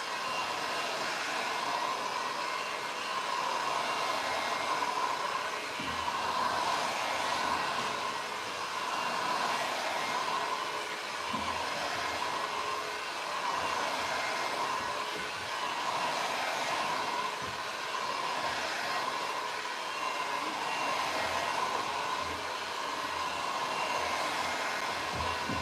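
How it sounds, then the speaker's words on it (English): Heat gun blowing hot air over a French country paint finish, a loud, continuous whooshing roar holding steady throughout with little variation. "can you heat gun that for a second?"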